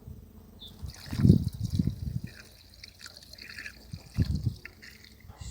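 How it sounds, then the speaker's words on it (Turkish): Risen yeast mixture is poured into 10 litres of water, giving a few close splashing, gurgling bursts of liquid separated by quieter trickling moments. "Şimdi ben bunu 10 litre suya döküyorum"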